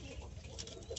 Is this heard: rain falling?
no